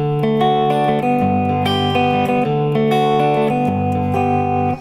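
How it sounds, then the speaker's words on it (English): Guitar notes plucked one at a time, ringing and overlapping in a slow picked pattern, clear and close. "or sort of you can pluck the strings individually"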